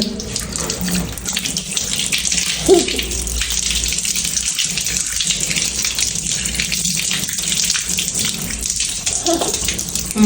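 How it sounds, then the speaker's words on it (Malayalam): Running tap water, warm, splashes steadily as hands and face are washed, a continuous close hiss with a brief louder splash early on and no talk. "കൈ കഴുകുക മുഖം കഴുക"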